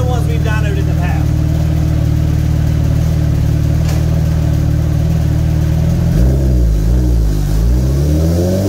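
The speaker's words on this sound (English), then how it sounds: "let me know what you think about the sound of this Yoshimura exhaust" A 2022 Suzuki Hayabusa fitted with a Yoshimura exhaust runs loud and close on a dyno, holding a steady high drone before the revs sweep up and down near the end; a voice may briefly speak over it.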